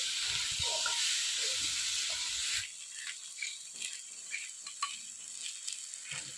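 Fish, potatoes and aubergine frying in a pan in a village kitchen, a loud bright hiss and sizzle at first that drops to a quieter, crackling sizzle with scattered small pops.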